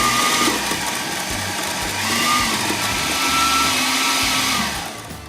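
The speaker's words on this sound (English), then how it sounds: "we put the lid on our blender. And we want to pulse this" A blender motor pulsing herbs whirs steadily at close range for several seconds, a harsh broadband roar that eases off at the end.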